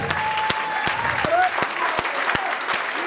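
Loud applause from a concert audience at a vocal studio show, a steady dense wash of clapping with a few louder sharp claps standing out, lasting throughout.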